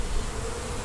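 A dense, steady buzz of many honey bees humming close by at an open hive, continuous and even throughout with no pauses.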